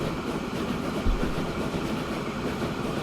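Train running along the track in Transport Fever 2, a steady close rumble of wheels on rails with a faint clickety-clack rhythm and one brief low thump, with no talk.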